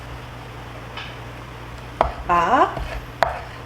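A kitchen knife cuts a pufferfish tongue in half on a cutting board during practical pufferfish preparation for a cooking certification exam. Two sharp knocks bracket a short scraping slice, close and clear over a faint steady hum.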